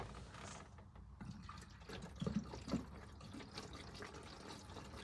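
Water pours into a car's windscreen washer bottle, a quiet close-up trickling fill that swells into a few small gurgling splashes midway.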